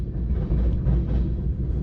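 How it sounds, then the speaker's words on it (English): A train rumbles past on tracks near a garage, a steady, low, continuous rolling roar heard close by throughout with no talking. "It's kind of fun watching the train go by."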